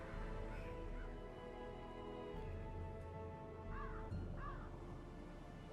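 Shrieker bird cawing in the Darkest Dungeon video game, two harsh rising calls near the end over a steady, loud game soundtrack drone.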